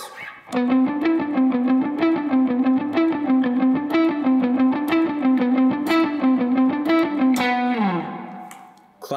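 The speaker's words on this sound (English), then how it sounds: "It's a very simple exercise for building speed with alternate picking" Distorted electric guitar plays a fast, even stream of alternate-picked notes in a repeating pattern, loud and steady, ending with a note bending downward.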